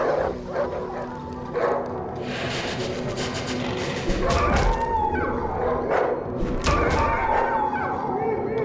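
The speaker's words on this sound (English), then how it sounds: "there is a large ruined barn with dozens of dogs roaming" In the video game Darkwood, several injured, sick dogs roaming a ruined barn bark, yip and whimper in repeated bursts, while a person talks over them.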